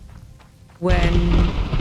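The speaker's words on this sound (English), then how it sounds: "I will manage somehow to get rid of this constant rain." Steady rain in the game Morrowind starts abruptly and loudly partway through, a dense close hiss that continues to the end, with a brief spoken word heard just before it.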